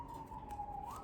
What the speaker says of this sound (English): I got the window open, so probably hear some sirens.